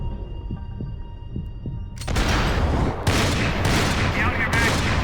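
Gunfire in the video game Max Payne 3, a dense, continuous burst of shots erupting loudly after a quieter stretch with faint thumps, sustained to the end with a brief dip near the middle.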